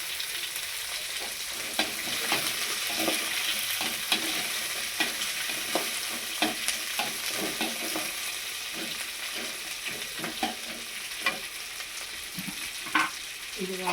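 Vadagam, ground garlic paste and curry leaves fry in hot oil for a Karavaatu kuzhambu, giving a steady close sizzle with frequent scraping stir strokes and small pops throughout, no talking.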